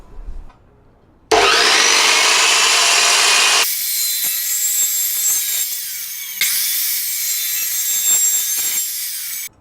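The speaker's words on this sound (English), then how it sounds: "I got my miter saw over here. Let's start cutting this before the neighbors start getting mad." A miter saw spins up loudly and cuts through metal suspension brackets for a BMW E46 drift car, a harsh sustained whine and grinding bite lasting several seconds with a second pass, close and dominant with no talking.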